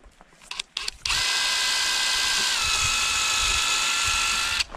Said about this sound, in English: Gonna take a little stainless steel screw from the underside so it's not hitting the plastic.